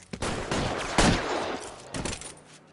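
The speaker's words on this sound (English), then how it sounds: "All units, officer needs help. 211 and shots fired." Burst of gunfire in the LA Noire video game during a police shootout, several dense overlapping shots over under three seconds, loud and close, tapering at the end.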